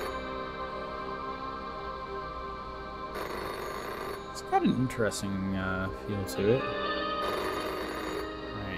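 In the PS1 game Blank VHS Tapes, a telephone rings with a steady, electronic tone that repeats in bursts, while someone talks over parts of it.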